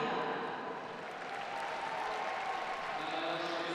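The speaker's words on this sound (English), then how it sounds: "Fans here clapping for the introduction of the players." Fans clap steadily for the player introductions at a Paralympic wheelchair curling match between USA and Finland, a dense, continuous patter of applause filling the arena at moderate volume.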